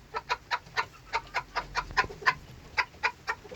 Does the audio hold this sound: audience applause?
no